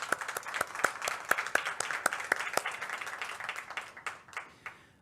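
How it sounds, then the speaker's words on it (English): A modest round of applause from a conference audience at a library services session, sparse individual claps that quicken together and then thin out and fade, with no talk over them. "I would like us to give them a big round of applause."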